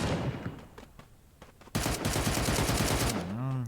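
Bursts of gunfire in the mobile shooter Badlanders, rapid shots crackling in a fight, a quieter stretch followed by a loud sustained volley, with a brief tonal game sound at the end.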